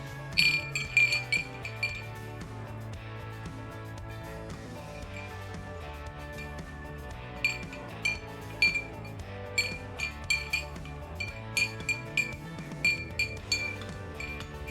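A spoon stirs a teaspoon of sugar into half a cup of hot water in a glass, giving bright, repeated clinks in uneven bursts over soft background music.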